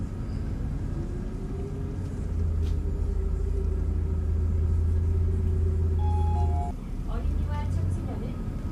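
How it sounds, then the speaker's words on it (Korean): A city bus's engine rumbles steadily as it moves, with a deep low drone that swells slightly midway, a few faint tonal chimes, and brief rattles toward the end. "디디북스 행성의 버스 소리 들으면서 마무리하겠습니다."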